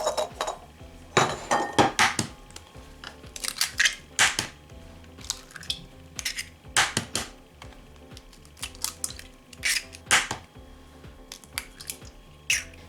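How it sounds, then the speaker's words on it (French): Four eggs are cracked into a saucepan for crêpe batter, giving sharp clinks and taps of shell against the pan, with scattered clatters across the stretch and no talk. "je vais mettre d'abord les 4 œufs"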